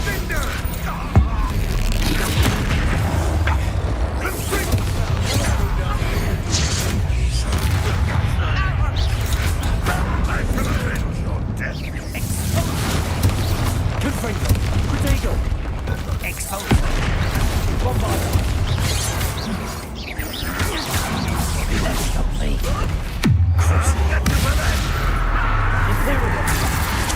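Spell blasts from Bombarda and Confringo boom and crackle repeatedly in Hogwarts Legacy, loud explosive bursts layered over continuous combat noise and speaking voices.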